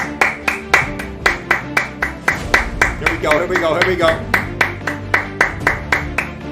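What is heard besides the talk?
man clapping away from the microphone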